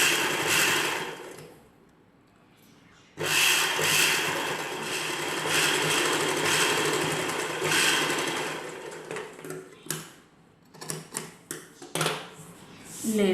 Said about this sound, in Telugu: ఇలానే రెండో చివరన కూడా కుట్టు వేసుకోవాలి.